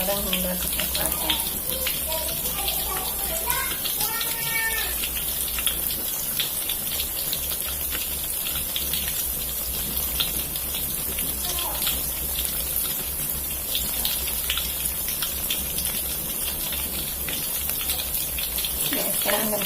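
Banana pieces frying in hot oil for pisang goreng, a steady dense sizzle and crackle running throughout, fairly loud and close, with brief speech and kitchen sounds over it.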